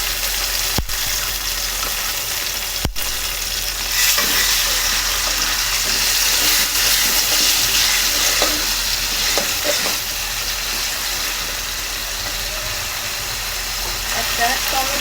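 Onion paste mixed with ginger-garlic paste and cumin frying in a pan while a fish curry is cooked, a steady moderate sizzle with stirring scrapes, under occasional talk.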